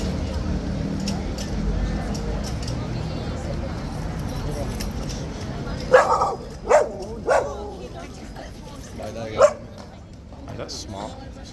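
A dog barks and yips a few times, fairly close, beside a police horse at a busy tourist spot, heard over steady crowd chatter and jangling keys.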